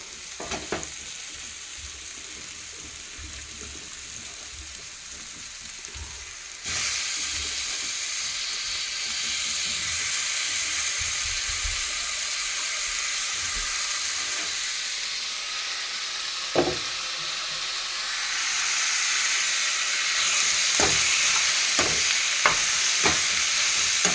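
Onions sizzle and fry steadily in a hot pan, a broad hiss that jumps louder partway through and swells again near the end, with a few sharp clinks of a utensil stirring; no one talks.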